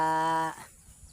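A cow at a Philippine cattle market lets out a single loud, harmonic moo lasting about half a second, then fades into faint background noise.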